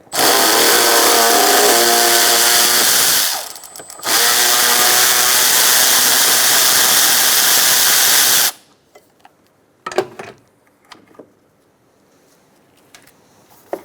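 A power tool fitted with an 8mm socket loudly spins out a bolt on a 2007-2017 Ford Expedition during condenser work. It runs in two long, steady bursts with a short pause between them, followed by quieter clanks and handling noises.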